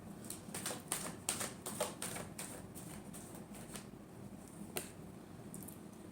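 Tarot cards shuffled by hand: faint, quiet bursts of crisp snapping and riffling clicks, denser at first, then sparser single taps.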